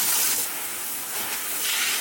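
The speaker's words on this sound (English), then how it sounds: "So what we're going to do is just turn the hose on, and we will spray everything right down." Garden hose spraying water down the inside of a wood-fired hot tub, a steady broad hiss of spray running continuously at close range with slight swells in strength and no talking.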